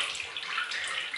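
A steady, hissing wash of bubbling water from potatoes boiling in a pot, like a rolling boil, continuous and fairly faint with no voices.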